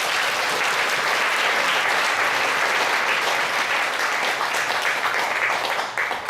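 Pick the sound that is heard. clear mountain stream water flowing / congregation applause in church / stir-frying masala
congregation applause in church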